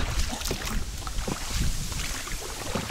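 A small boat moving on open water at a windy fishing spot on the Nura river, with steady wind buffeting the microphone and low splashing rumble throughout; no voices.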